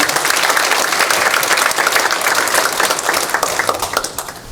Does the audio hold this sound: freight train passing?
no